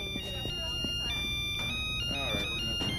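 Mobile phone ringtone with a steady electronic tone sustained across the clip, heard indoors beneath background chatter and movement noise.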